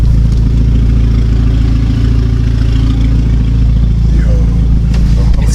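A straight-piped VW GTI with a 3-inch downpipe drones loudly and steadily while driving, a deep rough exhaust rumble that stays constant throughout, with no voices.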